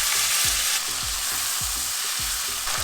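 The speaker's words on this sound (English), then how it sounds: "Let that sizzle, then go ahead and add your cluster beans in there." Dry red chili and asafoetida sizzle loudly in a pan for a Gujarati cluster bean and potato curry, then cluster beans go in. A dense, steady crackle is broken by rhythmic stirring scrapes, with no talking.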